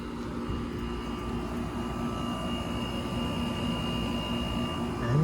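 A Goodman air conditioner's outdoor unit running, its compressor and fan giving a steady, droning hum with a faint tonal whine, continuous and fairly close, no voices.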